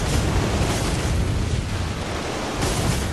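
Gunfire in Bloodborne, a dense, loud roar of blasts and rumbling booms filling the whole moment without clear gaps between shots, no speech over it.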